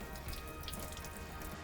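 Cold tap water runs and splashes in a home kitchen during homemade eggless ice cream making, a quiet, steady trickling with soft drips and no talk.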